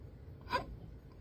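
A single short hiccup-like vocal burst from a person, quiet and close, rising briefly out of faint room noise with no talking around it.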